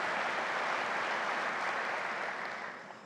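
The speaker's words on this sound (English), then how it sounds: "A big round of applause for Ingo." A crowd at a corporate customer success keynote applauding a presenter, a thick, even wash of clapping that holds steady and then begins to taper off.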